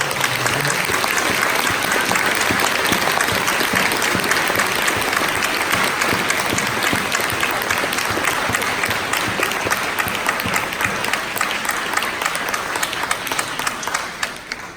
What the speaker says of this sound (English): if you want to give them a nice round of applause